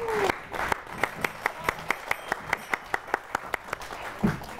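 An audience at a Holi kavi sammelan claps to welcome the poet Chirag Jain, a steady run of sharp, evenly spaced claps under a low crowd murmur.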